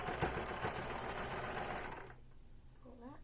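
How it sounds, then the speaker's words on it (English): Sewing machine stitching a cotton face mask, a fast steady whir lasting about two seconds before stopping, followed by quieter handling noise. "I'm going to slip that pin out"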